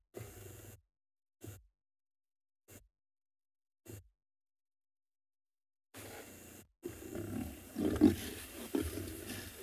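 Lions at a kill on an evening safari give short guttural growls in four separate bursts, then a longer stretch of rumbling snarls and roars as they fight over the prey.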